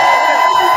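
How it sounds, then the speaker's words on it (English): A crowd at an outdoor charity walk opening ceremony cheers loudly together, a sustained roar of voices with whoops, close and strong throughout. "How loud can you get? All right, how loud can we get, guys? Okay. Let's cheer."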